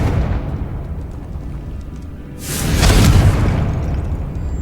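A Confringo spell bursts in Hogwarts Legacy as a sudden loud explosion midway, a broad roaring blast that swells and lingers before easing off over a low background rumble.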